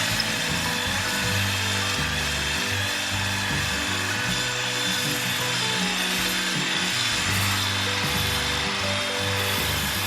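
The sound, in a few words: honing Small Block Chevy engine cylinder bore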